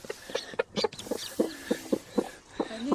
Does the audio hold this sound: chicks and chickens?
yes